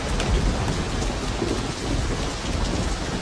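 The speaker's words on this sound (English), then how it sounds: "it's raining cats and dogs and chickens and goats out here" Heavy rain pours steadily in the video game Saints Row, with deep rolling thunder rumbling underneath, loud and close, no voices.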